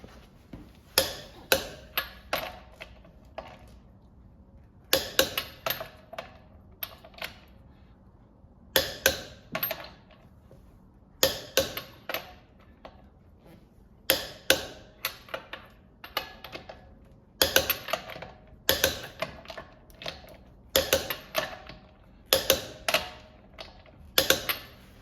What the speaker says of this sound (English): I got my torque wrench, 140. Going in a star pattern.